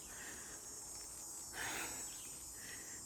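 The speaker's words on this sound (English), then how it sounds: "There's the cicadas singing." Cicadas sing in a continuous high, shimmering drone outdoors, faint and steady, with a soft swell in the middle and no talk over it.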